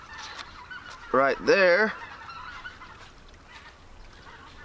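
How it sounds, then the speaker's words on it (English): A flock of geese honks overhead in a cold-weather woodland camp, a brief burst of several loud, overlapping honks against quiet outdoor ambience, with a few spoken words. "A big old bunch of geese there"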